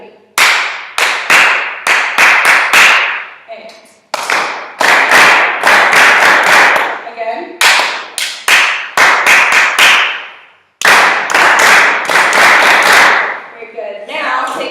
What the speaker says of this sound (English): And I want you guys to clap this instead.